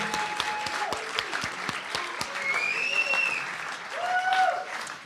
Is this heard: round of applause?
yes